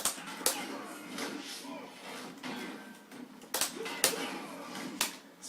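Rapid clicky taps of controller buttons, close and fairly quiet, in quick irregular bursts with a few sharper clacks.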